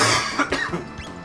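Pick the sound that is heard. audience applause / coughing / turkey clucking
coughing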